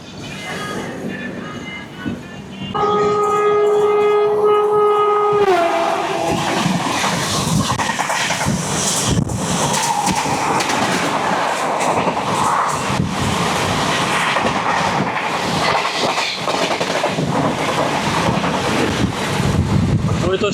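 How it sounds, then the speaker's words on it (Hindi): The 20801 Magadh Express passes on the railway line, a loud sustained roar and rattle of wheels and carriages, heavily buffeted by wind, with a long two-tone horn blast near the start. "तो स्पेशल ट्रेन थी ये मगध एक्सप्रेस"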